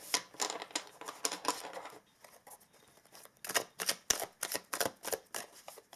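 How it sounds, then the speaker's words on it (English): Tarot cards riffled and pulled from a deck, giving quick papery flicks and taps in two busy bursts with a short lull between, close and fairly quiet. "So let us pull some tarot cards for you as well."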